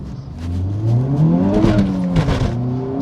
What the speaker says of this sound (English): let's see what we can do 0 to 60 in this Type R with these better tyres on